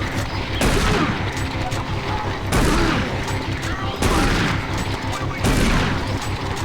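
Doom 3 gunfire, loud heavy booming shots in a steady rhythm of about four big blasts, each followed by a dense rumbling roar, with faint talk underneath.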